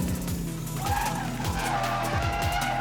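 A BMW drift car slides after a handbrake pull, its tires squealing and scrubbing continuously over a loud, droning engine close by.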